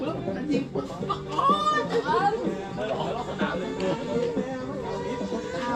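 Chickens cluck and chatter repeatedly amid a lively mix of background voices and bird calls, several birds close by.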